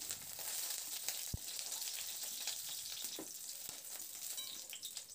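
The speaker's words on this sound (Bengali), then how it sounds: "দেখুন আলু আর বেগুনটা একদম লাল লাল করে দেখুন ভেজে নিয়েছি" Potatoes and eggplant fry in hot oil, giving a steady close sizzle for the full five seconds, with a few soft stirring taps.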